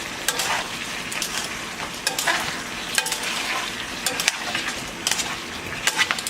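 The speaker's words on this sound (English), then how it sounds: "So we're just gonna stir it around." Chicken wings with spices sizzle in a frying pan while being stirred, steady frying hiss with repeated scraping strokes of the utensil against the pan, close and alone.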